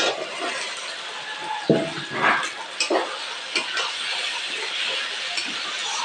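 Boiled chickpeas and potatoes are stir-fried in fried spices in a hot pan, with a continuous close sizzle broken by several scraping stirs and light utensil clinks.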